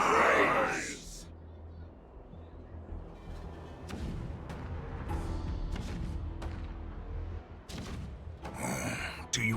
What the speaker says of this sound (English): Do you hear that? The rumble of the cannons.